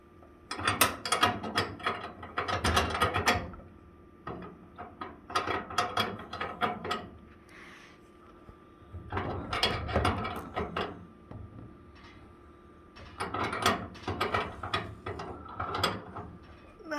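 A wrench with a 13mm socket ratchets in repeated bursts of rapid clicking, close and clear, as it tightens a fitting during a natural gas to propane conversion, with short pauses between sets of turns.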